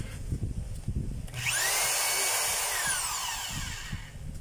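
A DeWalt D25032 rotary hammer test-run after reassembly: a steady, loud motor whine with hammering buzz starts abruptly about a third of the way in and runs to the end, preceded by handling knocks.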